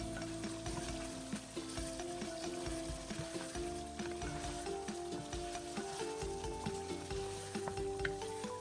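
Tomatoes and spices sizzle and fry steadily in a pan while being stirred for bhuna gosht, a continuous close crackle with scraping movements and no talk.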